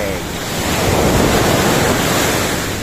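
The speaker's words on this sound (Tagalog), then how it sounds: "Ang lakas ng alon ngayon." Strong ocean waves roll and wash over a fine-sand beach in Ilocos Norte, a loud, continuous roaring surf mixed with gusty wind buffeting the microphone.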